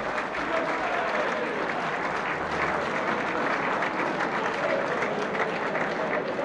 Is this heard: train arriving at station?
no